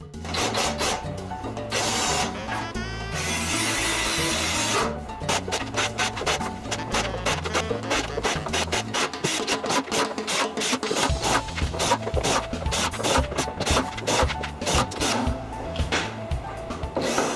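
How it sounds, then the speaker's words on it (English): A drill whirs into a wooden tabletop, pre-drilling holes with a sharp high whine for a few seconds, followed by rhythmic rubbing and grinding against a steady musical beat. "I pre-drill holes and counter-strike them."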